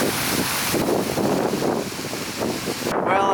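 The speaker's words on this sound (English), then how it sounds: "on a super windy day" Strong wind gusts across a seaside promenade, a loud continuous roar buffeting the microphone for the whole stretch, with no voices.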